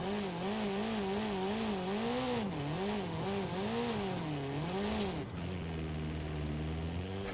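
Drift car in the Forza Horizon racing game, its engine droning and wavering in pitch while the rear wheels spin sideways, loud and continuous, then dropping to a lower steadier tone near the end.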